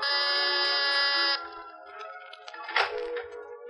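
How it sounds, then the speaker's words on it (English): A loud, sustained electric door buzzer drones for over a second at a penthouse apartment, then cuts off, followed by quieter muffled noises and a brief clatter. "And then you've got your finger on the door buzzer of Mr. Carr's cloud-high penthouse apartment"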